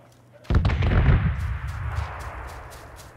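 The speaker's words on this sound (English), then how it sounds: "Now, who is shooting at me?" A single loud gunshot from PUBG in first-person duo play rings out with a sharp onset and a long echoing tail, followed by faint rhythmic ticks in the background.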